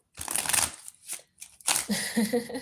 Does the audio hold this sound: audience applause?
no